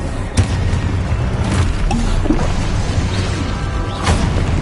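Repeated booming blasts and crashing impacts from Confringo blasting spells in the Hogwarts Legacy video game, loud and dense, layered over a constant rumbling background.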